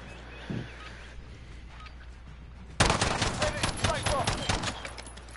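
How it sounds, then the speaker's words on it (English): Quiet ambience with a faint thump, then sudden loud rapid gunfire erupts and continues in dense bursts for the last few seconds, in the video game A Way Out. "Gunfire."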